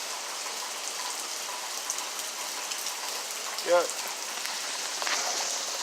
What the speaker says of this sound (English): It's been raining since yesterday.